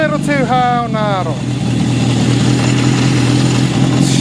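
A 1972 Honda CB750 Four inline-four motorcycle engine idling slightly too high, a steady close mechanical hum with a brief rising-and-falling whine early on, running alone without talk.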